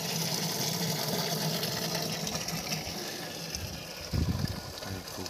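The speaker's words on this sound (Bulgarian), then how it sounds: "ето помпата точи" Water pump discharging water outdoors, a continuous loud gushing rush of flowing water with a low mechanical rumble, surging briefly near the end.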